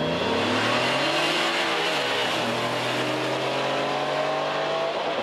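A Porsche Carrera 2 RSR 964 and a Honda NSX-R roar loudly and rise in pitch as they accelerate off a drag race start line, a sustained, close, droning rev with a gear shift partway through.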